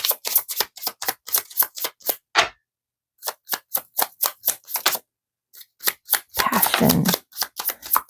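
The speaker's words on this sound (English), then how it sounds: "I'm just trying to shuffle these" Tarot cards are shuffled by hand in a series of crisp, rapid riffling bursts and snaps, close and distinct, broken by two brief pauses before a longer rustling shuffle and more quick flicks.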